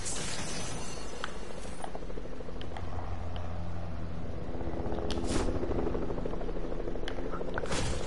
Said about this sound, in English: I hate the helicopters.